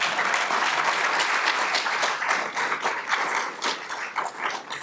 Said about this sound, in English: You can applaud yourself for that